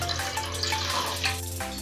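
Water pours steadily from a tap into a pot for making tea, a continuous close splashing stream with a faint hum underneath and no talking.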